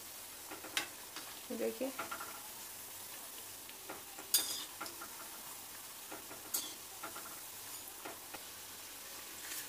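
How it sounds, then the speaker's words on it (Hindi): Aloo tikki patties frying in hot oil, a soft steady sizzle with faint crackles and occasional ticks from stirring, quiet and close, with a brief voice speaking. "तो ये हमारा सेकंड बैच भी फ्राई होने वाला है।"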